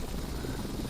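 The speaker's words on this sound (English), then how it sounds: "let's select a helicopter this time" A helicopter in the Flight Simulator X game gives off a steady, even rotor and engine drone that holds at a constant level throughout, with no talk over it.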